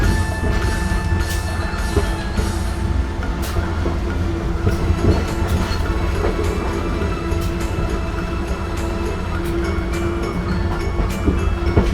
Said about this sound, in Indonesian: kereta api Gajah Wong diberangkatkan dari stasiun Cirebon Perujakan